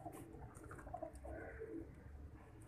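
Pigeons coo softly in a breeding loft, several low throaty calls overlapping at moderate distance over a faint background hum.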